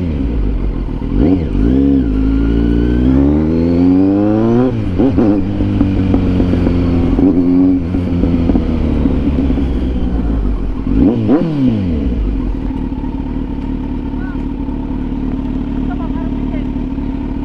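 A Kawasaki Z900 motorcycle revs loudly up close, its engine sweeping up and down through repeated throttle blips before settling into a rough, steady idle.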